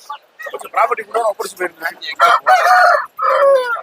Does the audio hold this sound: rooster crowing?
yes